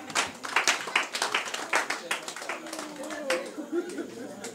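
A congregation claps rhythmically in quick, even beats during a church service acclaiming the Lord, with voices speaking over the applause.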